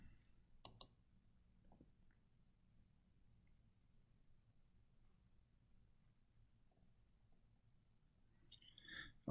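A computer mouse clicking Save in ERP software: one sharp, close click near the start, a fainter tap soon after, and then a long quiet stretch with low room hum before two more clicks near the end.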